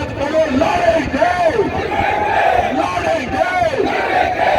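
A political rally crowd in Delhi chants a Hindi slogan meaning 'we will fight' over and over in a loud, rhythmic unison, each shout rising and falling about once a second.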